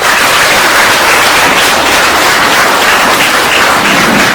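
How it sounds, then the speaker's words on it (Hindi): Loud, sustained applause from a crowd at a school award ceremony in India honouring top-scoring students, a dense, even clapping roar filling the whole stretch without talk. "एक बार जोरदार ताली।"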